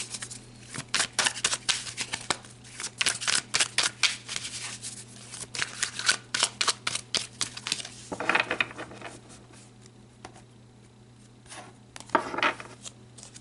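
Tarot cards shuffled and pulled from a deck, a dense run of quick papery riffles and flicks, close and fairly loud, easing to scattered snaps and slides near the end.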